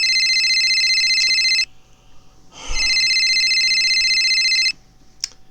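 A telephone ringtone in a Football Manager 2023 game rings loudly in two long electronic bursts separated by a short gap, with a brief rustle between them and no talk.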